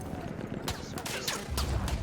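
Gunfire in the World War I shooter Battlefield 1 during a train level: a few sharp shots and bursts spaced across a short stretch, with a low rumble underneath and some faint speech in the mix.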